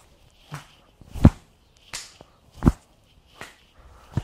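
Sharp hand claps made behind the back during a capoeira warm-up, about six separate crisp claps at an uneven, unhurried pace, close and alone.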